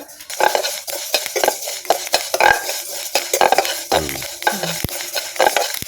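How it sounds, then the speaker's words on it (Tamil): Fenugreek seeds dry-roasting in a pan for homemade sambar powder, with steady scraping and stirring clatter, close and fairly loud, sharp metallic taps from a spoon against the pan, and no talk. "வெந்தயம் வறுக்கிறது மட்டும் பார்த்து வறுக்கணுங்க"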